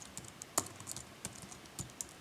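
Someone types a username and password on a computer keyboard, producing a quiet, irregular run of light key clicks, with one sharper tap standing out, close and alone.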